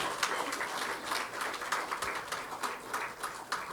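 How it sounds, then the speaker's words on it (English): Light applause at a launch event, a modest scatter of hands clapping at moderate distance with individual claps audible in an uneven rhythm. "please join me with a round of applause to all the hands and the hearts that have made this evening possible"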